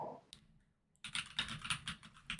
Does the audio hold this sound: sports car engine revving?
no